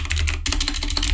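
Rapid clicking keystrokes on a computer keyboard, close and crisp, about a dozen taps in a quick uneven rhythm.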